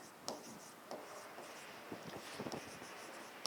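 Marker or chalk strokes on a board during a biology lesson, a few soft scratchy bursts spaced irregularly, faint and close.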